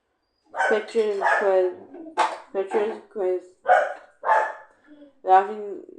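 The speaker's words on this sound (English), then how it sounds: "dogs barking, baby" Dogs bark in New Orleans, a loud, close run of about eight or nine sharp, tonal barks in quick, uneven succession.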